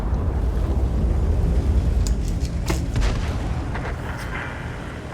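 A KV-2 tank fires an AP shell in a tank video game, heard as a heavy low boom with a rumbling tail that fades over several seconds, with a few faint clicks above it.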